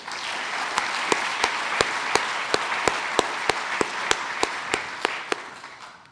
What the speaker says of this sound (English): Let's just have a quick round of applause for our wonderful school representatives who are here today.